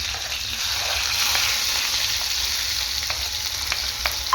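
Chopped onion hitting hot oil already holding mustard seeds and cumin, giving a dense, steady, fairly loud sizzle throughout with faint clicks of stirring toward the end, without talk.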